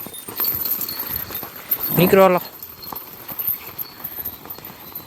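Buffaloes are herded along on foot, their hooves clopping in a loose, uneven rhythm. A man briefly calls out to them midway, over a light outdoor background.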